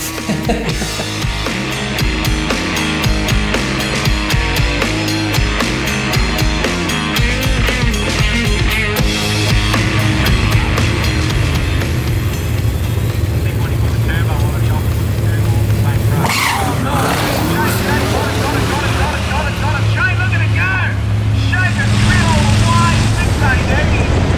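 Nitrous-fed drag car called Frankenmule launching at a Radial Riot drag event, front wheels lifting, engine roaring loud and continuous throughout with tyre and wind noise, commentary voices talking over it.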